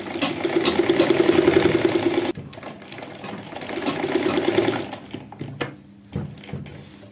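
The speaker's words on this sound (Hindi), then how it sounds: "अब यहीं से सिलाई लगाना स्टार्ट कर देना है।" A sewing machine stitches trouser fabric in two bursts of rapid, even mechanical chatter, with a short pause between them and a few handling clicks and knocks afterward.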